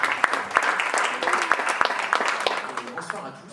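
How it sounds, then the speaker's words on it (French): Audience applause at an exhibition evening, a crowd clapping steadily with sharp individual claps standing out, fading slightly toward the end. "on vous demande de les applaudir"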